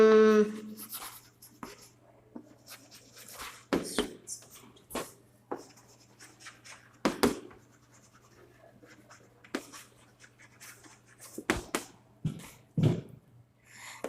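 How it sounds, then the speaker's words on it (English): Pen or marker writing by hand on a surface in a classroom lesson, heard as scattered scratchy strokes and taps in irregular bursts with quiet gaps, close and fairly soft over a low steady hum. "So let me write here."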